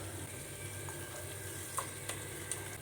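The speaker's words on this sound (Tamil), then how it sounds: "அதில் ஆட் பண்ணிவிட்டு நல்லா வதக்கி விடுங்க." A paste of ground pepper, cumin and tomato is sautéed in a pan, giving a soft, steady sizzle with a few faint clicks, with no voices over it.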